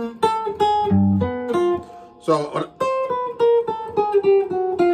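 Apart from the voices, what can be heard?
guitar playing a displaced chromatic scale pattern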